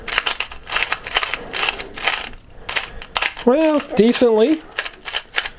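A Rubik's brand twisty puzzle with tiles instead of stickers being turned by hand, giving a string of quick plastic clicks and clacks in bursts, close up, with someone briefly talking over them.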